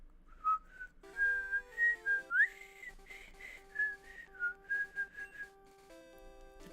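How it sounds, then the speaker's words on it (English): Someone whistles a lively melody in clear, pulsing phrases, close and steady, over quiet retro Pokemon Green game music with sustained chiptune tones underneath and no talking. "That's out of my range, whistle range."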